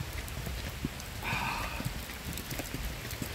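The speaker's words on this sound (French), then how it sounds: "Ah, c'est l'averse." Heavy rain shower pouring down outdoors, a dense continuous hiss of drops with scattered sharper patters and a brief swell of brighter splashing midway, loud and steady with no talk.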